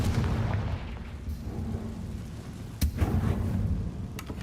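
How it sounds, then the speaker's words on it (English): A Confringo explosion spell cast in the video game Hogwarts Legacy, a dense low rumbling blast that rolls on, with a sharp crack near the middle and another near the end. "Confringo"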